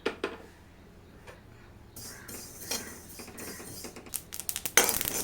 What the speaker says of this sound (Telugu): నువ్వులు ఇలా చిటపటలాడే వరకు వేయించుకోవాలి చిన్న మంట మీద